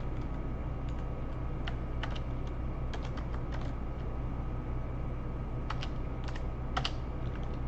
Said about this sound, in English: Goddamn keyboard.